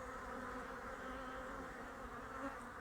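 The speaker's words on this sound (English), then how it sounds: "Bees coming with pollen." Honeybees fly in steady numbers at a hive entrance in early spring, many returning with pollen, making a continuous close, even buzzing drone with no voices.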